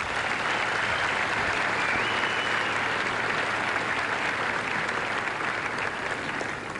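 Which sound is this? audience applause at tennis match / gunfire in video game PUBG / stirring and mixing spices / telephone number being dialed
audience applause at tennis match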